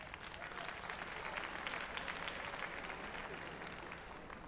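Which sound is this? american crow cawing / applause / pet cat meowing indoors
applause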